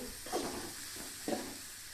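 Ginger garlic paste hits a hot pan for upma, giving two short sizzling bursts over a soft, steady background hiss.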